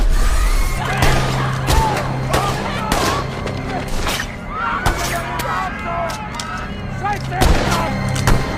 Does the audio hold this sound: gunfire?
yes